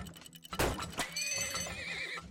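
In the oil-drilling game Turmoil, a horse gives a long, wavering whinny after a couple of sharp thuds and hoof clops, close and clear.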